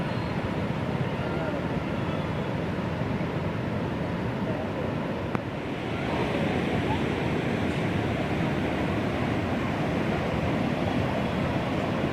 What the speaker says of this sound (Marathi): इथून आपण पाहू शकता की नदी किती रुद्र रूपाने वाहत आहे